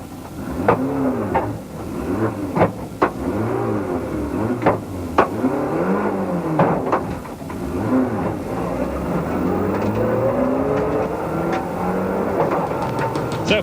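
Rally car at speed on a gravel special stage of the 1998 Rally Southland in New Zealand, engine revving up and down through gear changes with sharp pops and clicks, steady and close throughout.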